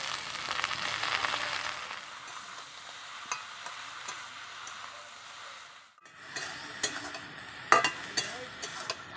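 Spinach goes into a hot pan and is stirred as it fries, giving a steady soft sizzle with scraping stirs, a brief pause, then sharper clinks and renewed sizzling, with no talking.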